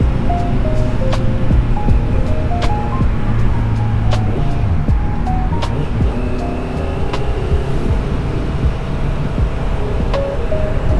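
Honda CBR650F motorcycle riding home on the road, a steady loud engine drone with shifting pitch and constant wind rush throughout, no talking.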